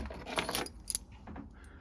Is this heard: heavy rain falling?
no